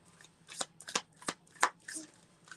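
Tarot cards being shuffled by hand in a quiet indoor setting, five quick riffling bursts about a third of a second apart, close and crisp against a low steady hum.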